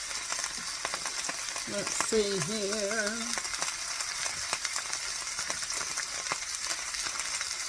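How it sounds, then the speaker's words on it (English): A venison roast sizzles steadily in a hot pot, a continuous moderate frying hiss with small crackles. A voice speaks briefly partway through, and a short warbling tone rises over the sizzle. "So we've got some sizzling going on right now."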